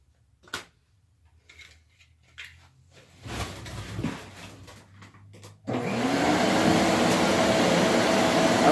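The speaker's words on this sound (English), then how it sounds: "with my forge, because how loud it is" A blacksmith's forge used for hardening steel starts up after some quiet handling clatter, then roars as a loud, steady rushing blast that holds to the end.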